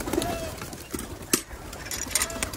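Pigeons coo softly amid scattered flutters and small clicks as wheat grain is scattered for them, with faint background noise throughout.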